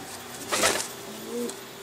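A single soft coo from a female pigeon sounds close by, a low murmuring call followed by a short second phrase, against quiet background hiss.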